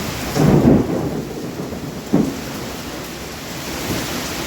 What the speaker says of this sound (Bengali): দেখো ঝমঝম করে বৃষ্টি পড়ছে আর সঙ্গে কিন্তু প্রচণ্ড মেঘ